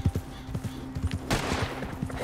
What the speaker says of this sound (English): Do I hear gunshots?